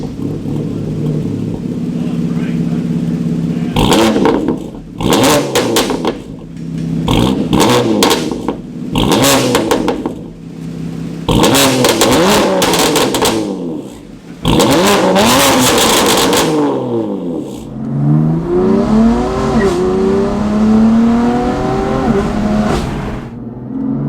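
BMW M4 GTS with an S55 engine and Active Autowerke equal-length exhaust, loud bursts of revving with sharp throttle blips and crackle between them, then a long, rising, sustained rev toward the end, heard close with no talking.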